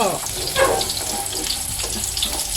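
Fish sizzles as it fries in hot salted oil in a pan, a steady crackling spatter close up with brief louder pops.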